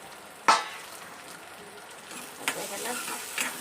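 Onion and tomato frying in a pan with garlic cloves and curry leaves for a cluster bean curry: a sharp clatter, then a soft, steady sizzle with occasional stirring scrapes.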